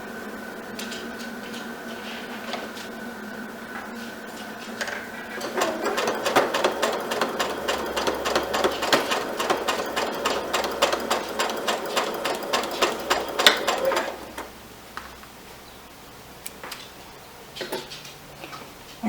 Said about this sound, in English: You're going to sew on the right side.